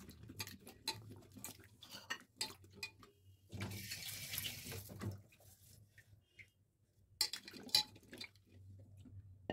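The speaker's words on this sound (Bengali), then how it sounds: "জলের মধ্যে ফেলে চটকে চটকে ভালো করে ধুয়ে একদম পরিষ্কার করে নেব।" Amla (Indian gooseberries) squeezed and scrubbed by hand in a bowl of water, giving irregular splashes, sloshing and clinks of the pieces, close and fairly quiet with short pauses between bursts.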